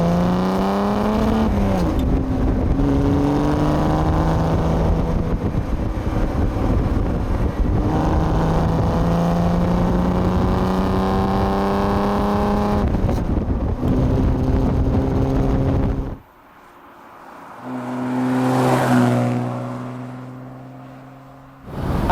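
A 1969 Mercedes-Benz 280SL Pagoda engine revving hard as the car accelerates through the gears, a loud rising growl with clear shift breaks, then a lift-off and another rise, heard from inside the car with wind noise.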